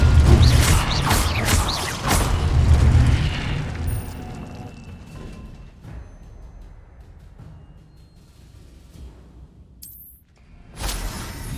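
Fire spell cast in Hogwarts Legacy, heard as loud booming bursts and crackling blasts at the start, fading into quieter rumbling game effects, with a bright whoosh near the end.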